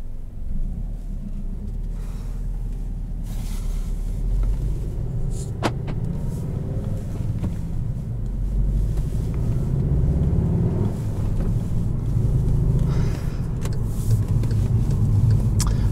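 A 2017 Volkswagen Jetta GLI with a manual gearbox being driven, its steady engine and road rumble loud and continuous, swelling slightly as it pulls along, with no talking.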